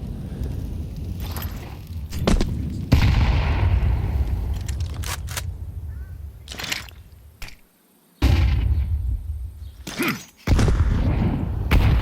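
Grenade blasts and gunfire in a Counter-Strike match, with sharp cracks and booming bursts spread across the stretch, separated by brief quiet gaps.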